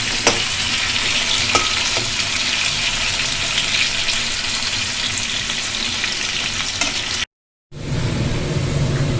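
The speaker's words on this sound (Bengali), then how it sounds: "আলু ভালো করে ভেজে নিতে হবে" Potatoes fry in a pan for a Bengali banana-potato-poppy seed dish, giving a steady, close sizzle with stirring scrapes that cuts out to silence for a moment near the end before resuming.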